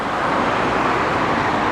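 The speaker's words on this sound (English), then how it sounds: "sorry, cars are loud" Cars pass along a street in Belgrade, making a steady, loud wash of road noise with no distinct single pass-by and no voices.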